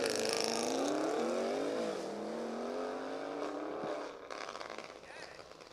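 An Audi S6 and a Porsche 911 Turbo in a spectator drag race at a drift pit, engines roaring and climbing through rising revs before fading as they pull away, with a voice talking over the noise.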